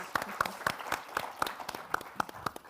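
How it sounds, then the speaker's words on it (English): A conference audience at a GP event gives a short round of applause, steady clapping with distinct individual claps standing out close by. "Massive round of applause."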